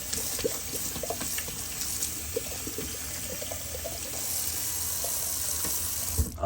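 Tap water runs steadily as a Simpsons Chubby 2 badger shaving brush is washed under it, a close, continuous splashing hiss with faint irregular clinks and no voices.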